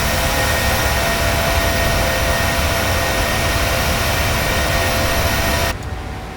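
Loud, steady roar of Boeing 737-800 jet engines climbing after takeoff in Microsoft Flight Simulator 2020, a broad continuous rush with a faint whine that drops sharply near the end.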